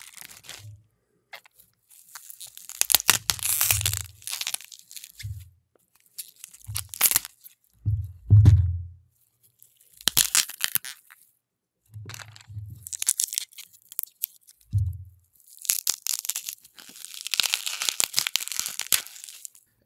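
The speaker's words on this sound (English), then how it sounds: "here we are with the broccoli. We'll record everything, so we also get the plastic." Broccoli is crunched, crushed and mashed inside crinkling plastic for game sound design, heard as repeated close, dry bursts of crackle and squish separated by short pauses.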